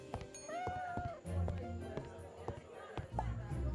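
A cat in the video game Travellers Rest gives a few short meows amid game sound effects, while a voice speaks briefly over them.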